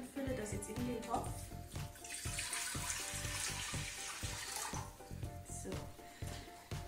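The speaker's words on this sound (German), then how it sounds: "jetzt habe ich mir 800 Milliliter Wasser aus der Leitung geholt und fülle das jetzt in den Topf." Tap water, about 800 ml, pours steadily into a cooking pot in a home kitchen, a continuous close splashing fill that stays fairly quiet throughout.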